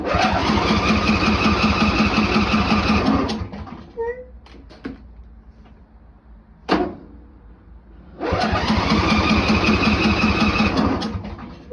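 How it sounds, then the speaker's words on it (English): A Briggs & Stratton Intek 21 HP engine cranks on its starter in two long, loud rhythmic bursts separated by a quiet pause with small clicks and a brief thump, without catching. "Maybe I'll give it a bit of throttle just to see. Maybe that'll help fire it."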